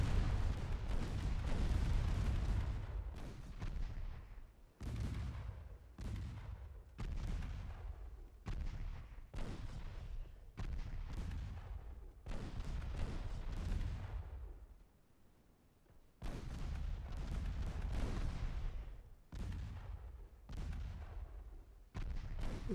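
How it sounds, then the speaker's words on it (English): Naval guns fire repeatedly in the warship game Ultimate Admiral Dreadnoughts, a long run of loud, booming cannon blasts following one another in an uneven rhythm, each roaring report overlapping the fading rumble of the last. "Let's just have everybody shoot all their guns."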